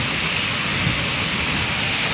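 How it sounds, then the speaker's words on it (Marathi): Steady, dense rain hisses continuously at close range, a constant wash of sound with no voices. "पण आज पाऊस बघा ना"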